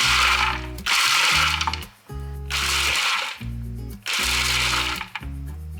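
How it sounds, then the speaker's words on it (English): A food processor grinds walnuts for garlic scape basil pesto in three loud pulses of about a second each, the motor whirring up and cutting off between bursts as the nuts rattle inside. "I'm going to put the walnuts and give those a few turns of the food processor first"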